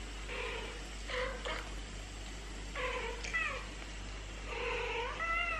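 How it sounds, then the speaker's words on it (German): A cat video playing through a phone speaker gives several distinct meows in three bursts, each rising and falling, heard over a steady low hum with no talking. "Er hat einfach ein Katzenvideo angemacht und will hören, ob Nala darauf reagiert."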